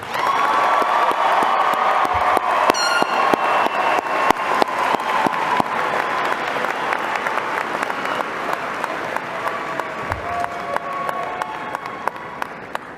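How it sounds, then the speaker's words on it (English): A large graduation crowd applauding the Eastmont class of 2025, dense sustained clapping with scattered cheers, steady and loud throughout, gradually thinning toward the end. "please join me in your best round of applause for the incredible class of"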